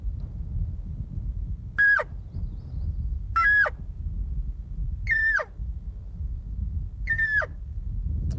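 Four evenly spaced, drawn-out elk cow mews from a hand caller imitating a lost, desperate cow trying to rejoin the herd, each a high nasal call dropping at the end, close and clear over a low rumbling background.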